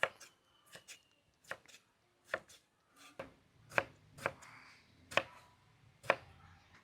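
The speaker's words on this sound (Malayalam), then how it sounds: "നമ്മളിവിടെ മൂന്ന് വലിയ തക്കാളിപ്പഴം എടുത്തിട്ടുണ്ട് നമുക്ക് അതും കൂടി ഒന്ന് കട്ട് ചെയ്തെടുക്കാം" Knife chopping three large tomatoes on a board while making a Kerala-style beef dum biryani: about a dozen sharp, close taps in an uneven rhythm, with short quiet gaps between strokes and no talking.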